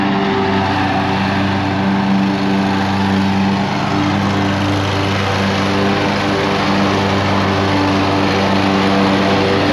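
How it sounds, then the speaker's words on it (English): A lawn mower mows a front yard, its engine droning loud and steady at close range for the whole stretch with no talking. "I'm pretty much done with the mowing of the front yard here"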